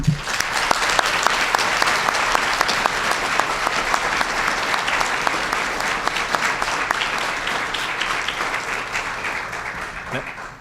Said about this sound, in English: I'd like to ask you to begin by giving them all a round of applause.